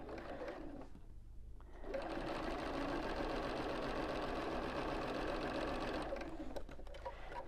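A sewing machine stitches quilt pieces together for a pinwheel block, starting with a short burst, pausing briefly, then running in a steady, fast, close whirring chatter for about four seconds before slowing and stopping.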